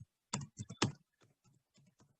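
Someone types a conda install command on a computer keyboard: a quick burst of three loud, close key clicks, then a few softer scattered taps, with no voices.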